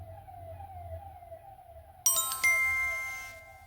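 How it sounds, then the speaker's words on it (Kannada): An ambulance siren wails steadily in the distance, a thin faint tone behind the room, interrupted partway through by two sharp nearby chime-like clinks that ring out and fade. "ಹಿಂದೆ ಆಂಬುಲೆನ್ಸ್ ಶಬ್ದ ಕೇಳ್ತಿರಬಹುದು ನಿಮಗೆ."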